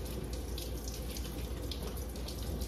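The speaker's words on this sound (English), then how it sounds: "So I got my potatoes and I'm gonna go ahead and rinse them off real quick." Organic potatoes are rinsed under running tap water at a sink, giving a steady, soft hissing splash throughout with slight variations as the water hits them.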